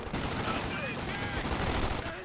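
Thompson submachine guns firing in the video game Company of Heroes 2: rapid rattling bursts of automatic fire at mid distance, layered with whistling battle effects and low rumble, with some talk mixed in.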